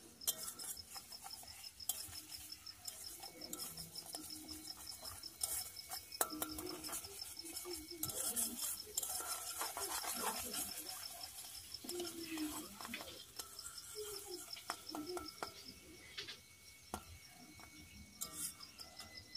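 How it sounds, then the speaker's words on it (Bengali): Eggs cracked into fried tomato, onion and green chilli, stirred continuously in a pan for an egg bhujia, with soft scraping and clinking of a spatula and a low sizzle, close but quiet throughout. "ডিম ফাটিয়ে নাড়াচাড়া করতে থাকবো"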